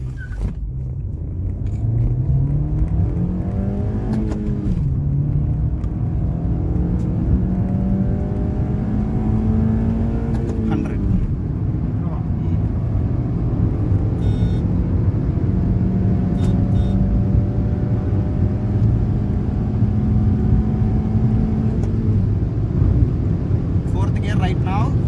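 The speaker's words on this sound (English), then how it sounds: "driving the motor up to 3000 rpm, and I'm going to launch the car" A stock Honda Civic launches from about 3000 rpm and pulls hard. The engine note climbs steadily through the gears with brief dips at each shift, a loud, continuous in-cabin drone, and someone talks over it.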